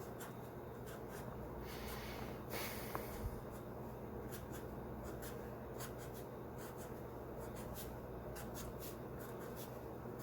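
Pencil or marker scratching steadily across paper while a crown of thorns is drawn, close and quiet, with short repeated strokes over a low background hum and no talking.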